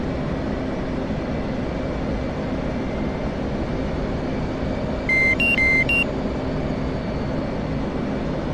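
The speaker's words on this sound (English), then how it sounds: "We're going to be hearing that beeping for a bit." Steady electronic beeping chirps briefly from around five to six seconds inside a jet cockpit during night aircraft carrier operations, sitting over a loud continuous engine and airflow roar.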